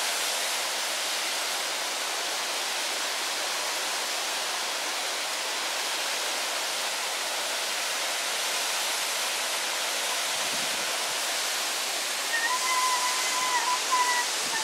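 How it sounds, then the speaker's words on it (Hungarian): A waterfall on a Transylvanian hike roars as a loud, constant broadband rush of falling water that holds steady throughout, with no talk. "így egy vízesés."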